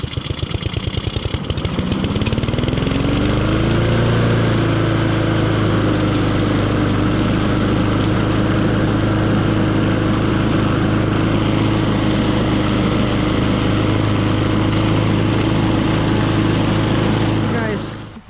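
A Honda self-propelled lawnmower with a Briggs & Stratton engine starts up and runs, the loud steady engine drone rising to speed and holding close by until it cuts off at the end.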